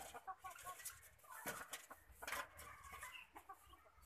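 Bantam chickens cluck and scratch about close by, with soft irregular clucks and rustling over a quiet rural background and no talking.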